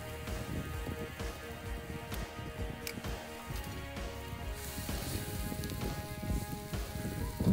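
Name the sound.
half-salted ham hocks sizzling as they brown in a pan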